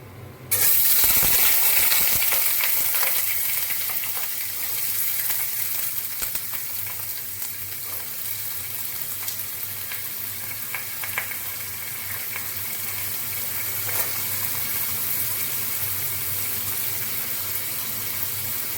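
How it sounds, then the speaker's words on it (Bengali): Cut potatoes fry in hot oil over a tempering of spices for a vegetarian cabbage curry, a loud, continuous close sizzle that bursts in at the start and then settles into a steady hiss, with no voices. "নুন দিয়ে আলুটাকে ভালো করে ভেজে নেব"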